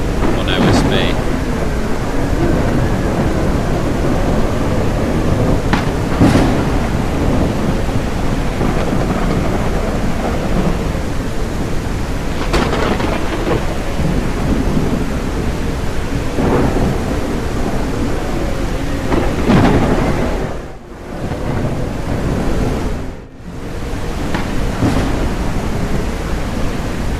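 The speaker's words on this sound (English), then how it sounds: "the rain on my levels is actually spiking in the red" Heavy rain pours in a steady, dense roar with rolling thunder swelling through it, loud and continuous throughout, with two brief dips near the end; no voices.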